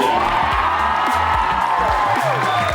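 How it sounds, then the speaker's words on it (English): A crowd at a Sonic Expo Q&A in Dallas cheers and whoops loudly and continuously, an excited mix of shouting voices and some applause close by. "So, my one got me a cheer."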